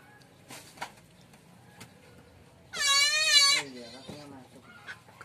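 A goat kid on a farm gives one loud, wavering bleat in the middle of the clip, with quieter bleats and faint background voices around it.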